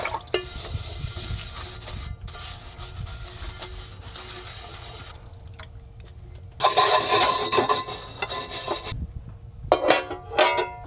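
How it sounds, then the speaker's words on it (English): Water splashing and dishes clinking and scraping in a van's sink, with bursts of running water and pauses of quieter handling. "I'm gonna do these dishes that I postponed from last night"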